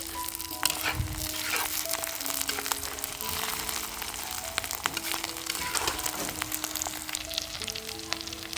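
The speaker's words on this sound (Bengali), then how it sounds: "এখন পেঁয়াজটা আমি কিছুটা লাল লাল করে ভেজে নিব।" Onions and green chilies fry in hot oil in a pan, giving a continuous, dense sizzle with scattered crackles and pops, heard up close with no talking.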